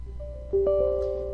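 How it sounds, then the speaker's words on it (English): A Windows 10 computer plays a short two-note chime for a permission prompt, fairly soft over a low background hum and lasting about a second. "that noise was my computer asking me for permission"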